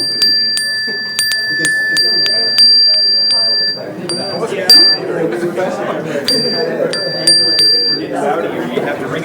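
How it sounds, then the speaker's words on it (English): A small hand bell rings in quick repeated jingles, pausing and resuming, with people chattering nearby. "So as I was ringing the bell"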